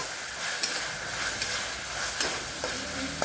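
Vegetables for a drumstick curry sauté in oil in a pan, making a continuous close hiss and sizzle with a few stirring clicks and no talk.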